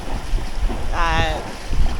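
Wind noise buffeting the microphone aboard a sailboat under sail, with a steady rushing background and a brief whistling tone in the middle, no talk.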